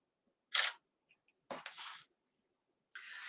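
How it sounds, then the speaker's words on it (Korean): Phone camera shutter snapping a photo inside the Google Keep app: a crisp synthetic click, then a double-part shutter sound a second later, and another click starting near the end, all clean with no talk. "그 상태에서 사진을 촬영해 볼게요"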